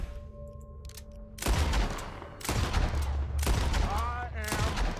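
A rapid burst of gunfire from Red Dead Redemption 2, headshots fired in quick succession with loud, close reports and echoing tails, with a faint game voice and music underneath.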